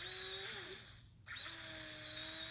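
Cordless power drill on a weak battery, its motor whining then slowing and dropping in pitch, briefly cutting out before spinning up again at a lower, sluggish speed.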